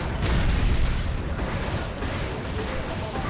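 Explosions in the video game Armored Core: Nexus rumble with dense, booming low-end blasts and crackling debris, sustained and loud throughout the short stretch, with no gaps between them.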